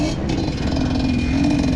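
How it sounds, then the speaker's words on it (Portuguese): A motocross motorcycle engine revs loud and close with a steady, raspy drone, climbing slightly in pitch as the throttle rises, out on a rough dirt trail in the bush. "Ô, moto boa!"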